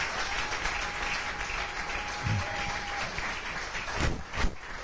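A church congregation breaks into steady applause as an offering of acclamation during a Sunday consecration service, a dense wash of clapping with a few louder claps near the end.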